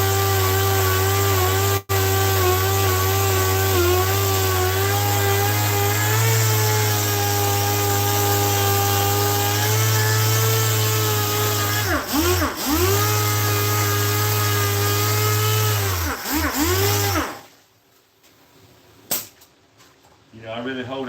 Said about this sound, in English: I really hold that grinder up. If I didn't, it would eat into that seat pretty bad.